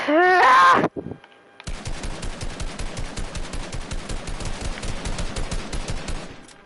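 Rapid automatic gunfire in an online shooter video game, a long, dense burst of fast, evenly spaced shots that comes right after a short loud voice, close and loud throughout.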